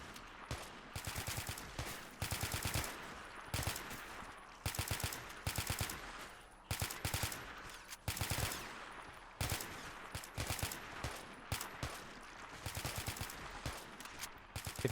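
Soldiers in a video game fire at waves of zombies, with dense, nonstop bursts of automatic gunfire and rapid volleys overlapping for the whole stretch, loud and close.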